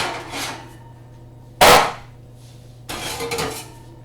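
Baked bread containers pulled from a home oven: a sharp metallic clack partway through, then a rougher clatter of handling and scraping near the end, close and fairly loud with quiet room tone between.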